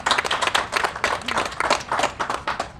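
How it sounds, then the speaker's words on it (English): A small group claps at a housing development tour in Phoenix, Arizona, the individual claps distinct and uneven, rising and falling in a loose rhythm at moderate volume. "I will give you a big round of applause for that"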